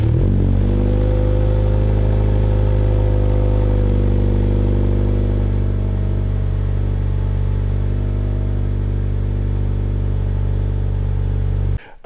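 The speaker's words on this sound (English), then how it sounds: "it's gonna be a nice, true cold start, and you guys can definitely hear that new exhaust" A car engine idles loudly and steadily on a cold start with a new exhaust, a deep, rumbling exhaust drone throughout, then cuts off abruptly at the very end.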